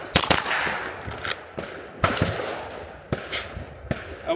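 Gunfire at an outdoor range striking steel targets: a handful of sharp, close cracks in an irregular sequence, each followed by a brief bright ring, with quieter handling noise between shots.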